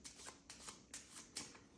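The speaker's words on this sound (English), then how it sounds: "Then again, I give it another shuffle because I don't want to be accused of cheating." A packet of playing cards is shuffled in several quick, soft riffling bursts with short gaps between them, faint and close, with no one talking.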